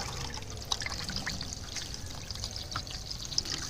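Water poured into a bucket to dilute fertilizer for dahlia cuttings, a continuous soft trickling pour with small splashes, steady and close, with no talk.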